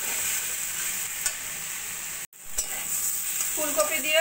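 Cauliflower stir-frying in a pan for a vegetarian posto dish, close, loud sizzling with stirring scrapes and a brief break in the middle.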